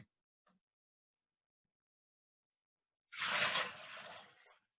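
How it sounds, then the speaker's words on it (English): Water poured from a measuring jug into a bowl while measuring liquid volume, a single burst of splashing and gurgling after a long near-silent pause, lasting about a second and a half and fading out. "Oh, 1 liter is not enough, so I gotta add more water"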